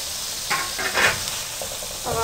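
Potatoes, peas and carrots drop into hot spiced oil and fry with a loud, steady sizzle, broken by a few brief scraping and stirring sounds near the pan.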